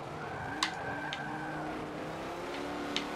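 A race car engine in Forza 7 drones steadily with a sustained, gritty tone, with a few short sharp clicks or ticks over it and no talking.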